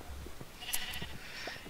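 Sheep bleating in a fantasy dungeon-adventure video game, a few short bleats at moderate volume over a low background rumble.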